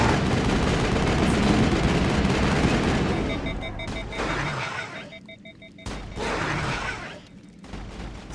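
Gunfire in the Mass Effect video game, dense bursts of rapid shots and booms in a loud continuous barrage that thins out into separate volleys toward the end.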